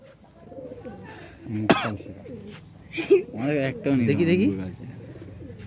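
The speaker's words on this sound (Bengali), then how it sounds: "এই হচ্ছে পায়রাটা" A pigeon coos softly up close during a night-time pigeon catch, low throaty calls mixed with people's voices speaking nearby and a sudden sharp noise.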